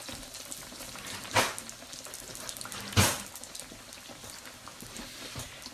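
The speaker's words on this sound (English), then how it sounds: "let that baby fry" Pizza frying in a pan, a soft continuous sizzle and crackle with two sharper pops standing out, fairly quiet and close, no talking.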